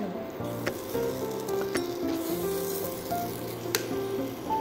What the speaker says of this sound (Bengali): এবার ভালো করে কড়াইতে আমরা এটাকে নাড়াচাড়া করব